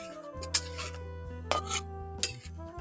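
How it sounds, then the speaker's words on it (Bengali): Fried paneer goes into a pan of curry set to simmer over low heat: a few sharp metallic clinks of utensil against pan at intervals over a steady low background hum. "এবার আমি এর মধ্যে দিয়ে দিচ্ছি ভেজে রাখা পনির।"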